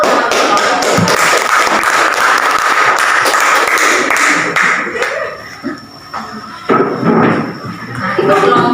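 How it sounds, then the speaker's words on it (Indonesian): Students in a classroom applaud after a group presentation, a dense, steady wash of clapping for several seconds that breaks into scattered claps and taps as it ends. "silakan tepuk tangan."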